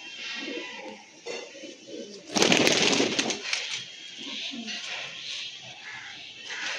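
Pigeons kept for sale coo in short soft phrases close by, with a louder burst of fluttering or rustling in the middle of the clip.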